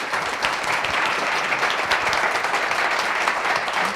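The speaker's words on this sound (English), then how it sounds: "Let's get a round of applause for Jess Dale" An audience applauds a speaker at a UX and data design meetup, a dense, even wash of many hands clapping that holds steady throughout without voices.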